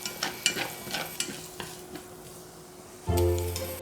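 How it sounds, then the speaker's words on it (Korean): Bacon, onion and potato stir-fry in a pan with a sizzling hiss, broken by several sharp spatula scrapes and clicks, then a louder burst of frying with a low rumble near the end. "베이컨, 양파, 감자 순서대로 볶고 소금, 후추 넣어 간해줄게요."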